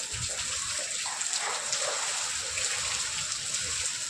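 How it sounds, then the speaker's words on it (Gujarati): Heavy rain falls during a storm as a continuous, even wash of hissing, splashing water, moderately quiet, with no clear speech over it. "ઠંડી બહુ લાગે ભાઈ વરસાદ આવી ગયો ભાઈ"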